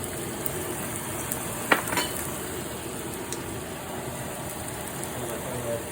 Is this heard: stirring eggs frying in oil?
yes